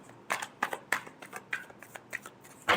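A deck of tarot cards shuffled by hand up close: about ten quick, crisp riffling bursts in an uneven rhythm, with the final burst the loudest.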